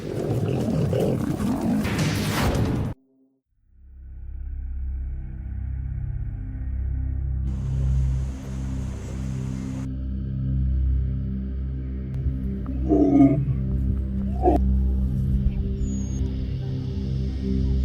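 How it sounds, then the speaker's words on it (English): Lions roar on open plains in deep, drawn-out bellows that rumble on and off over the clip, fairly close and loud, following a short burst of other sound at the start. "Roars of challenge echo across the plains"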